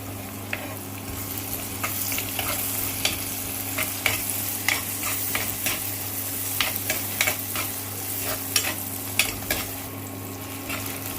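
Tomatoes and tamarind sautéing in a pan for a Kerala-style chili curry: a steady, close sizzle broken by irregular clicks and scrapes of a spoon stirring against the pan, with no voices.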